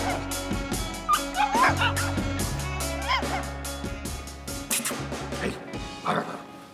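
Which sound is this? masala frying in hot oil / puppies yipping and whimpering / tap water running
puppies yipping and whimpering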